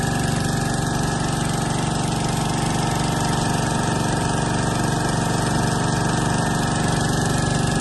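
A 3.5 hp engine with reduction gearing drives a three-piston, six-hun crop sprayer pump, a loud, steady, close mechanical drone running continuously with no breaks.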